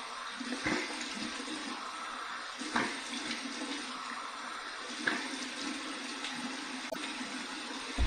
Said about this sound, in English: here's a cold water rinse